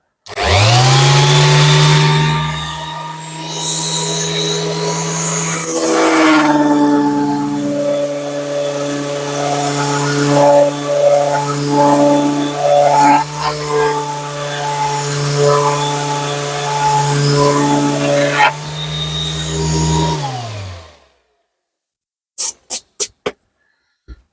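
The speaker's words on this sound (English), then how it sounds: "I'm only sanding on the flat edge." A loud power sander whines continuously for about twenty seconds on the flat edge of a split cane fishing rod, its pitch shifting as it works, then stops, followed by a few sharp taps.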